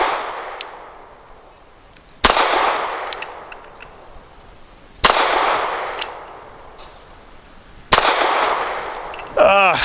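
Four loud shots from a Cosaint Arms COS11 gun ring out a few seconds apart, each a sharp crack followed by a long fading echo in an open outdoor setting.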